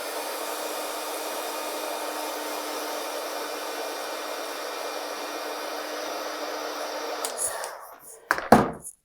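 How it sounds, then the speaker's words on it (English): Heat tool blowing hot air to dry watercolor paint, a steady close whirring hiss for several seconds that cuts off, followed by a few handling knocks. "I'm going to take my heat tool. I'm just going to give it a little blast of heat."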